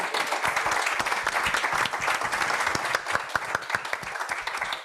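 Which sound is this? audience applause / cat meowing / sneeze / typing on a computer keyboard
audience applause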